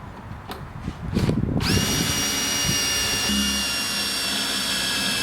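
A power drill whirs briefly after a few clicks and knocks, then holds a steady high-pitched spinning whine through to the end, drilling through a bracket on a Jeep Wrangler YJ.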